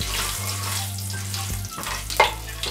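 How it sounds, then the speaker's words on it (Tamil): Mustard seeds, cumin and fennel fry in hot oil, a short soft sizzle over a steady low hum, with a small sharp clink near the end. "கடுகு பொரிஞ்ச உடனே சீரகம், சோம்பு, சீரகமும் சோம்பும் நல்லா கலந்து வச்சுக்கலாம்."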